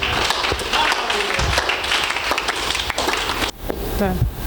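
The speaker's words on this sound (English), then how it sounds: "Clap your hands for Jesus." Congregation clapping hands together in a church service, a loud dense wash of applause running throughout with voices mixed in.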